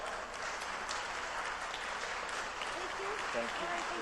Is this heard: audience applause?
yes